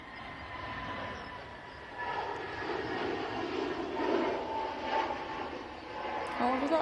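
A propeller aircraft engine drones faintly at an airport, a low, steady hum swelling slightly over several seconds while people talk nearby.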